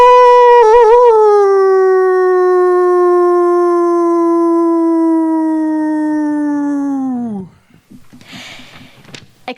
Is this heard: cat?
no